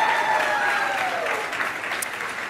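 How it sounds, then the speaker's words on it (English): An audience claps for a choreographer at a children's show, a dense round of applause that begins loud and slowly tapers over a couple of seconds. "we still give her a round of applause for all the work that she did."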